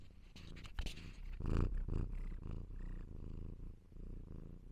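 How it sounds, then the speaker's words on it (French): Cat purring close up, a steady low rumbling drone that swells and fades slightly with each breath, continuous and alone without talk. "J'ai des chats qui traînent."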